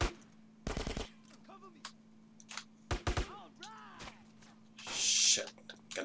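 Assault rifle and MP5 gunfire in the video game GTA San Andreas: short bursts of rapid automatic shots at intervals, mixed with game noises, a steady low hum and scattered vocal sounds.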